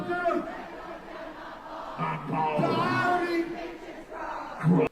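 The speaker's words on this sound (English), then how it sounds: "can't do a call and response and get a crowd to respond to them like that" Crowd at a live wrestling-style event responding in a call and response, loud massed voices chanting and shouting in bursts that rise and fall over a few seconds, with a sharp peak near the end.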